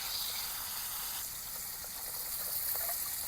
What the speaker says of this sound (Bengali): প্রথমে আলুটা দিয়ে দেব, তারপর কাঁঠালের বীজ দিয়ে একসঙ্গে ভেজে নেব